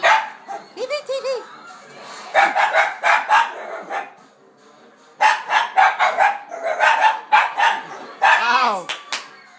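A dog barks repeatedly from a television during a Christmas film, mixed with excited human talk and what may be a rooster-like crow from the program, loud and near.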